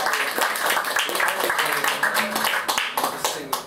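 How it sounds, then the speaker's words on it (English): Audience applause at a live concert at De Nieuwe Anita, greeting drummer Leon: dense, continuous crowd clapping holds steady throughout, with scattered sharper claps and a busy room murmur underneath. "So another round of applause for Leon."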